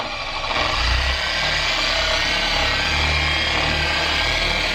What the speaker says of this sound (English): I'm gonna turn my polisher all the way down to 1.